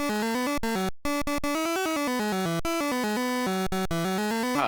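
Bible Baseball music from the Atari video game: a bright, buzzy square-wave chiptune melody stepping through short repeated notes with brief gaps, loud and continuous on its own.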